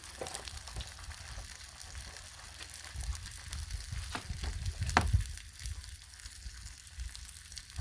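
Eggs fry in a ring on a hot Blackstone griddle, giving a steady close sizzle with brief clicks and scrapes, swelling louder around the middle.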